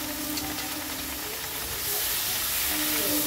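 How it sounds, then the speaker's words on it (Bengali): Cabbage leaves fry in a pan with a continuous broad hiss that swells louder toward the end, steady and close, with no talking. "ওইগুলো বাটার জন্য ভাজছি ভালো করে"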